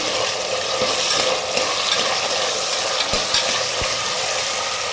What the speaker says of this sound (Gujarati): વટાણા નાખીશું બધું મિક્સ કરી દઈશું